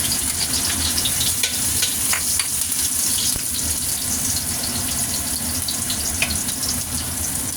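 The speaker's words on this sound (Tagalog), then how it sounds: "fry the ginger, the garlic" Ginger and garlic frying in a pan give a loud, steady close-up sizzle that runs throughout, with occasional light stirring scrapes and pops on top.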